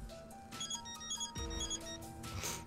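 A phone ringing in the video game Death end re:Quest, a short melodic ringtone of bright repeating tones under game music.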